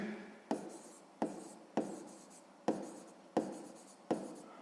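Hand-writing numbers for a 6th-grade math exercise, pen or pencil strokes scratching on paper in short bursts, about six distinct strokes in a steady rhythm, close and quiet with no talking.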